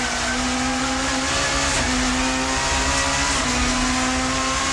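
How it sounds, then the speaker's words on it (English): 1990s touring car engine screaming at sustained high revs against the rev limiter down a straight, a loud, steady, buzzing drone holding one pitch throughout. "Cleland is in typically fighting mood, hitting the rev limiter on the run down the club straight"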